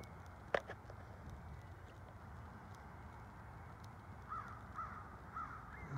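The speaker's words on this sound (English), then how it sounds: "As we hear that crow," A crow caws in the distance, a few short calls spaced out over faint outdoor ambience, quiet and far off.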